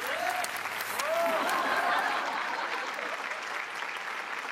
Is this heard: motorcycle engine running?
no